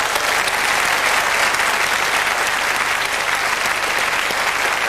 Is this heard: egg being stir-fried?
no